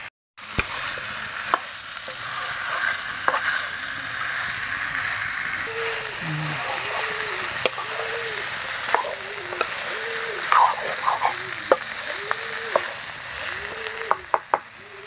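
Pork with baby potatoes dry-fries in a kadai with a steady, close crackling sizzle, while a utensil stirs and scrapes in repeated rhythmic strokes and faint speech comes through now and then.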